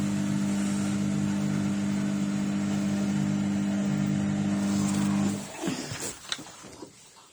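A Samsung WF604E0W0W washing machine on its 1,400 RPM final spin gives off a loud, steady motor hum while shaking violently, then winds down into clunks and rattles as the drum slows.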